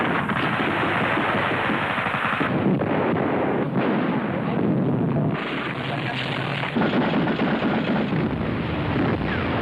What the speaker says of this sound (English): So the Flak 38 was raised to a maximum of 480 rounds per minute